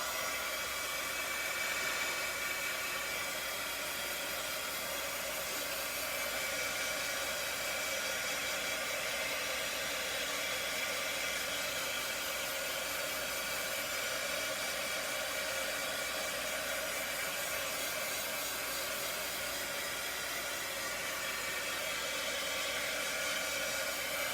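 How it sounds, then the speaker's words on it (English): A heat tool blows steadily on craft transfers with a constant, loud rushing whir like a hair dryer, unbroken and alone with no talking. "I'm going to zap it with my heat tool again"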